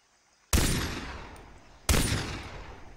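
Gunfire in Far Cry 3: two loud, sharp shots about a second and a half apart, each with a long, decaying echoing tail, and no voices.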